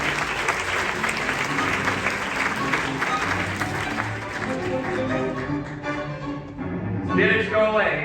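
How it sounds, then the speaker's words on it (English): An audience applauds at a stage show demonstrating whether spirits return. The clapping is loud and sustained, then thins out and fades toward the end, with a few voices rising beneath it. "round of applause for the spirits"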